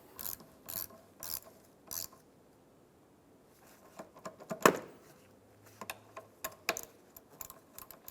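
A ratchet snugs the negative battery cable onto its terminal during an alternator job on a 2003-2007 Infiniti G35, giving several short bursts of close, crisp clicking separated by pauses, with metallic clanks mixed in.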